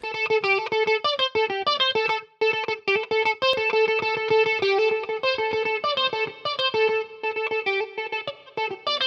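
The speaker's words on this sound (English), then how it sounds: "Now let's bring in reverb." Melodic synth notes with a distorted, chorused tone play in quick runs, with reverb applied in music production adding a ringing tail behind each note. The passage plays steadily on its own, with no voices.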